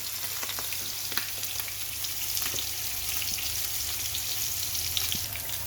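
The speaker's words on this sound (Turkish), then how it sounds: "şimdi palamutlarımızın ön yüzlerini kızartıyorum" Atlantic bonito fillets frying in a pan, a dense, steady sizzle and crackle of hot oil with faint spattering pops, close and continuous, no voices.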